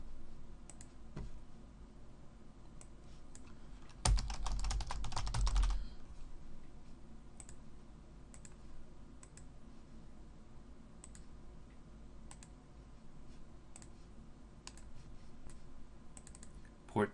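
Typing on a computer keyboard: a quick, dense burst of keystrokes, then scattered single clicks spread across a quiet room.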